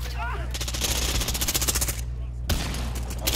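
Shotgun fire in Modern Warfare, a fast, loud string of shots with a short pause before more blasts follow, players' voices talking over the firing.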